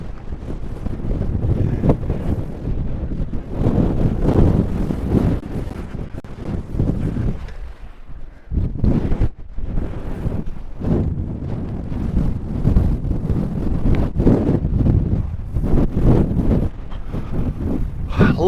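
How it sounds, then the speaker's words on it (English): Strong outdoor wind blasts straight into the microphone on a homestead, a loud continuous roaring rumble with gusty surges and a brief dip near the middle. "I'm sorry about the noise. I can't stop the wind"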